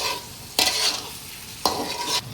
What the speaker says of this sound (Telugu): ఒక 2 స్పూన్లు కారం, కొద్దిగా కసూరి, మొత్తం కలపాలి. బాగా వేయించుకోవాలి.